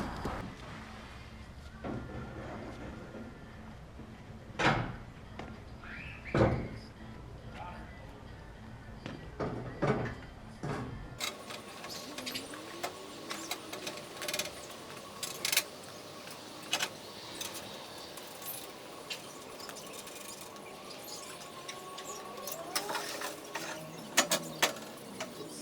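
Metal loading ramps are unstrapped, pulled down and fitted onto a trailer used to haul a crawler, giving a series of clanks, scrapes and ratcheting knocks. The sounds come close and irregular, with quieter handling noise between the louder hits.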